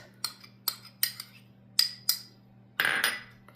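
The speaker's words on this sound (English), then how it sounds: "And just stir that up real good" Melted butter, lemon juice and zest being stirred in a bowl for a lemon frosting: a series of sharp, close clinks and taps of a utensil against the bowl, then a short scraping burst.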